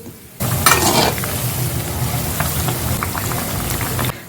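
Sweet bonda batter balls fry in hot oil, a loud bubbling sizzle that starts abruptly and holds steady, close, with a few utensil clinks and no voices.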